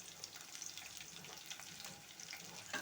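Onions fry in a pan for pepper chicken, with a soft continuous sizzle and faint crackles under occasional stirring, fairly quiet and close.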